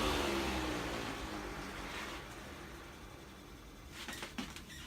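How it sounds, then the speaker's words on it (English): A vintage electric fan spins down on a cold porch, its whir and rumbling bearing noise fading gradually, ending with a few soft knocks. "there's some sound going on, bearing noise or whatever"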